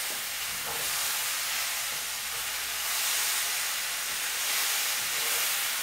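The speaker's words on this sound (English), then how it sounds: "I'm also stirring the potatoes." Potatoes cooking in a pan, a continuous loud hissing sizzle that swells and eases slightly as they are stirred, with no voices.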